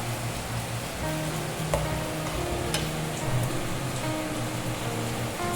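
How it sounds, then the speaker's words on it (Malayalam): Roasted vermicelli goes into boiling milk in a pan for semiya payasam and is stirred, giving a continuous bubbling hiss with a few faint scrapes and clicks, close and steady. "ഇനി വറുത്ത് വെച്ച സേമിയ ഇതിലേക്ക് ഇടുക."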